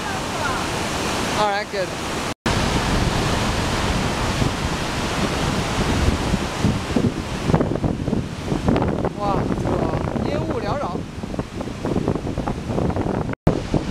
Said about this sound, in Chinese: 我们现在来到了这个瀑布底下